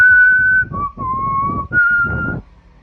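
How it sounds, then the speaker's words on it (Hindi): A clear whistled tune of a few sustained notes, close and loud, stepping between pitches with brief breaks and background noise beneath. "अब सीटियां बज रही हैं"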